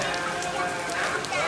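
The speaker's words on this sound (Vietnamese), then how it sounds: "Rồi mưa xuống rồi" Light rain falling at a countryside home in Vietnam, a steady soft patter of drops on surfaces with brief voices mixed in.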